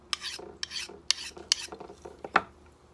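A kitchen knife drawn across a DC4 sharpening stone in a series of short, quiet rasping strokes with brief pauses between them, close up and without talk.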